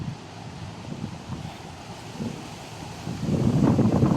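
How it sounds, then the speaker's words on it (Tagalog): Strong wind gusts buffet the microphone in a continuous roar by the wavy sea, swelling louder toward the end. "malakas pa yung hangin oh. Rinig na rinig yung ano niya."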